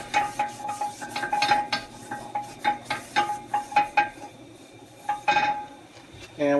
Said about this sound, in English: I'm going to wipe it on the inside of the skillet.